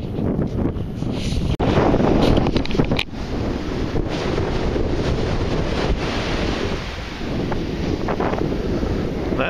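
Strong wind batters the microphone in a continuous loud roar, with surf-like rushing underneath and a sharp knock partway through.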